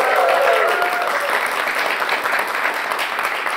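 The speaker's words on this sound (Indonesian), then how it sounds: "Boleh tepuk tangan buat BHS teman-teman." Crowd applause at a student protest rally in Indonesia, a dense, steady wash of many hands clapping that starts loud and holds evenly for several seconds, with a faint voice briefly audible at the start.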